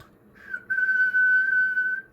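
A steady, clear whistle blown into a microphone, one sustained tone holding for about a second and a half after a short lead-in, close and alone.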